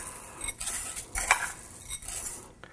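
Arborio rice tipped into a pan holding about a centimetre of hot olive oil, a brief scatter of clinks and rustles with faint background clatter over a quiet bed.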